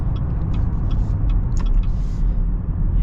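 A 2023 Chevy Blazer RS accelerating, heard from inside as a steady low engine and road rumble with faint light clicks and rattles over it.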